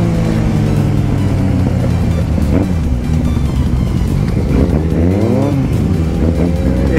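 A Kawasaki Z750 motorcycle roars loud and close throughout, its engine revving up and down with pitch sweeps and a stumble mid-run that fits a missed gear shift.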